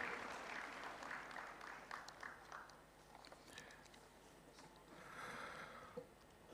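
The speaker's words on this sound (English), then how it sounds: "Let's give a round of applause and thank Sri M.B. Patil" Audience applause at the Bengaluru Tech Summit 2025 inauguration, a faint, distant wash of many hands clapping in a large hall, swelling slightly near the end.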